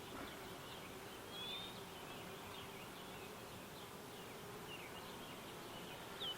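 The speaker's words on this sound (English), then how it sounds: "this beehive is humming" A strong honeybee hive humming with a steady, dense buzz, bees flying close by with faint passing whines over the continuous drone.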